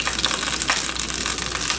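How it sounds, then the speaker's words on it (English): Beef browning in a hot pan with a splash of dry vermouth, a loud, steady close sizzle and crackle filling the whole moment without any talk. "So while it's still sizzling, this is a little bit of vermouth in here"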